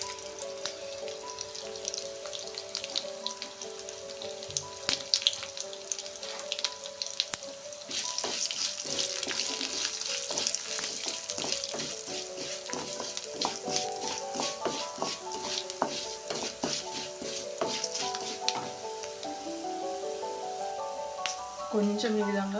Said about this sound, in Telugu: సో ఇప్పుడు ఈ మొత్తాన్ని కూడాను మనము ఆయిల్లో ఫ్రై చేసేసుకుందాం.